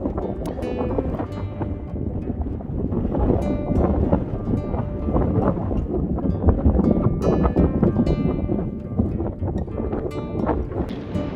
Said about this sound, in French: Regardez le vent qu'il y a quoi.